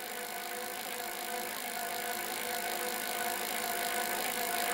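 An e-bike hub motor whirs steadily and faintly while driven by simulated pedal pulses, a thin continuous electric whine with a light mechanical rattle throughout.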